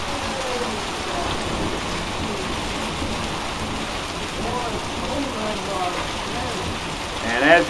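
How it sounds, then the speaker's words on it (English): Pea- to marble-size hail and heavy rain come down in a severe thunderstorm and hit a car, making a dense, steady patter and hiss that swells slightly at the end. "Oh, it's coming down, a little bit of hail now."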